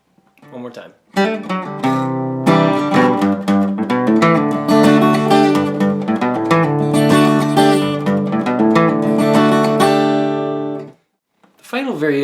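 An acoustic guitar plays the opening part of a song, a steady stream of picked and strummed chords, close and full, running about ten seconds between short pauses.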